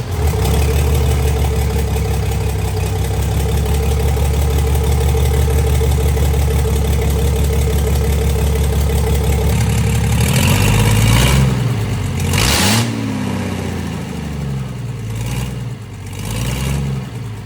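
A rebuilt 6.7 diesel truck engine runs loudly and close by, holding a steady idle drone before revving up and down in several swells near the end.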